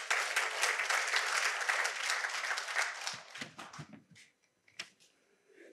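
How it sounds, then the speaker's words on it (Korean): A lecture audience at a Chungyoye college talk claps steadily and fairly loudly for about three seconds, then the applause thins into a few scattered, fading claps and near silence. "박수 한번 쳐주십시오"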